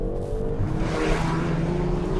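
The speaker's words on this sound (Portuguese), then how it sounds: "estas trocas de caixa com rateres, seja a reduzir, seja a subir de relação, é fantástico." A Hyundai i30 Fastback N with a 2-litre turbo engine of 275 hp runs hard, its engine note rising and shifting with rough crackling texture, loud and close throughout with no talk.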